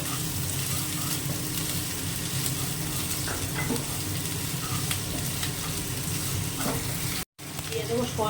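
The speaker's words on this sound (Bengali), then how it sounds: "একটা পেঁয়াজ কুচনো আছে একদম মিহি করে সেটা হালকা ভাজা হবে" Finely minced onion fries lightly in a pan with a continuous soft sizzle, broken by occasional scraping and stirring sounds and a brief gap near the end.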